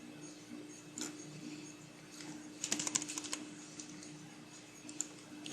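Clicks of a computer keyboard while a quote is positioned in a doorknocker template, bursts of key taps around the first and third seconds, close and fairly quiet over a steady background hum.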